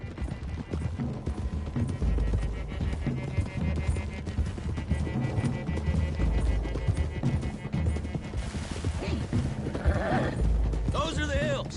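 Horses gallop in Red Dead Redemption on PS4, a loud, continuous drumming of many hooves with a whinny near the end, alongside other game sounds and no speech.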